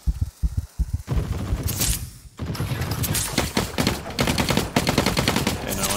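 Gunfire in the video game The Cycle: Frontier, a few separate heavy shots followed by sustained rapid bursts of automatic fire, loud and close with game thumps in between.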